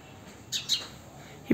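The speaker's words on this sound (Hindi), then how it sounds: "यहाँ पे बहुत सारी चिड़िया है" Small birds gather near a homemade summer water feeder, giving two quick, high chirps in close succession against a quiet background, followed by a brief low bump.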